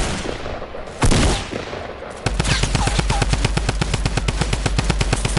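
Rapid automatic gunfire in a video game, a long run of evenly spaced loud shots after a brief burst and a quieter stretch, close and continuous.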